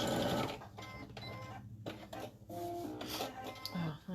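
A sewing machine stitches fabric for a hanging storage pod in short, uneven bursts of mechanical whirring and clatter, with brief pauses between runs.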